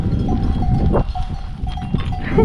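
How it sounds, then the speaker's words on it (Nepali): Bells clink and ring intermittently among a bleating herd of goats, with steady outdoor rumble underneath. "बाख्राहरू त कति धेरै"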